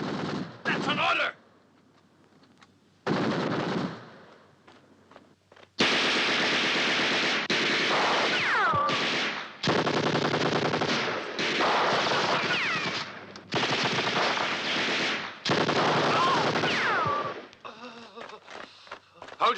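Loud machine gun bursts and rifle shots rip through a WWII battle film scene of the North African campaign at El Alamein, coming in long rapid volleys separated by short gaps, with shouted voices in between.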